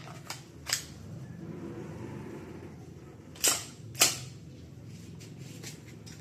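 WE M4 gas blowback airsoft rifle, Version 3, loaded with 0.25 g BBs, fires two sharp cracking shots about half a second apart. A few fainter clicks come before them over a low steady hum.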